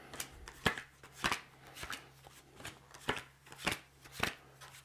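Tarot card decks are shuffled by hand in quick crisp riffles, a series of sharp papery bursts repeating every half second or so, close and alone.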